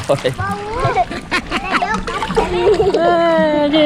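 A child splashes while swimming in a resort pool, with choppy water sounds under near continuous overlapping talk from a child and an adult.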